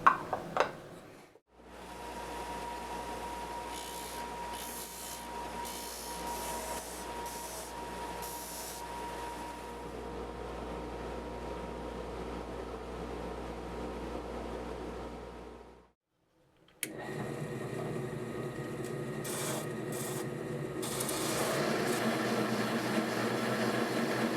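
Steady whirring hiss of a spindle sander shaping a wooden leaf-shaped box, running continuously with a brief pause, then resuming with a slightly rougher, louder pitch.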